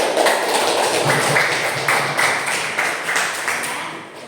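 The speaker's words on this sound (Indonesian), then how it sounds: "beri tepuk tangan untuk" A classroom of students clapping together after a classmate's answer, a dense run of rhythmic claps that holds steady and then fades slightly toward the end.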